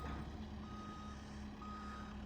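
A truck backs slowly down a steep, snowy driveway after a storm, its backup alarm beeping steadily in a regular rhythm over a low engine rumble.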